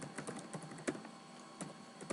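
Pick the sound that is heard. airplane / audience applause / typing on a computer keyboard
typing on a computer keyboard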